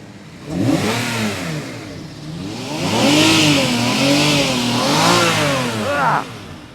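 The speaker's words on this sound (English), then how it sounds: "Rev the engine." A 2004 Lamborghini Murcielago engine revs loudly nearby in several rising and falling surges, ending with a sharp final blip.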